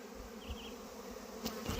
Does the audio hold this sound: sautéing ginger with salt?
no